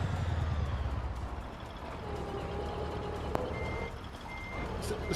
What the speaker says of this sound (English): The stupid car backs up into that van.